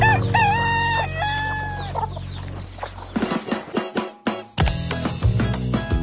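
A rooster crows loudly nearby in the morning, a long drawn-out call, followed by a jumble of clucking and rustling sounds.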